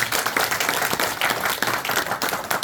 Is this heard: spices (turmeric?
no